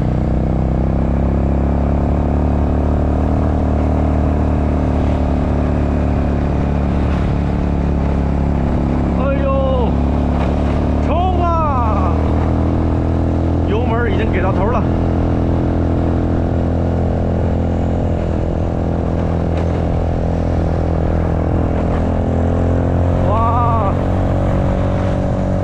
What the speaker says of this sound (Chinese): 那摩托车太给力了啊